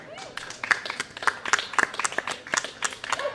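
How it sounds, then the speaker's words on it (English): A small outdoor open-mic audience at Lausitzer Platz in Berlin claps a singer up to the stage, with scattered uneven handclaps close by and a few voices in between. "We're going to clap you all the way here."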